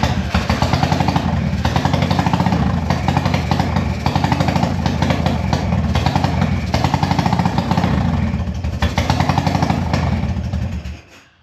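A Harley-Davidson Evo Heritage 1340 motorcycle engine starts with no choke and idles for about eleven seconds, a loud, close, lumpy V-twin rumble with steady pulsing beats that stops abruptly at the end.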